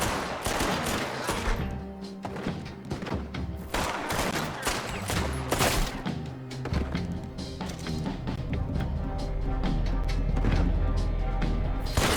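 Gunfire in the video game Red Dead Redemption 2 during an epilogue shootout: dense, continuous volleys of rapid shots and sharp cracks, loud and overlapping throughout.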